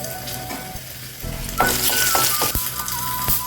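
Mustard seeds, cumin and dried red chillies crackle and sizzle in hot oil, a steady frying hiss that swells louder partway through, with sharp pops and a few clinks of a utensil against the pan.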